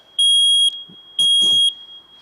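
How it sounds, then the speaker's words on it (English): A loud, piercing smoke alarm sounds two long test beeps, each about half a second, separated by a short pause with faint rustling. "it'll go in a sequence to do the smoke alarm and then the carbon monoxide"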